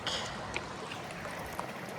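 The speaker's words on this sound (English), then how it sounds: "Little bubbling creek." A small bubbling creek in Box Creek Canyon, heard as a soft, steady outdoor wash of trickling water with a couple of faint brief clicks, fairly quiet and without voices.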